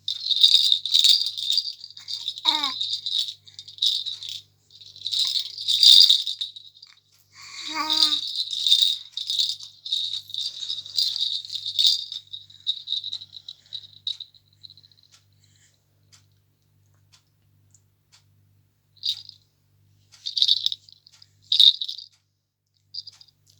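A jhumka rattle toy shaken in short bursts, giving bright, close jingling with pauses between bouts, and a few soft squeaky voice-like chirps near the start.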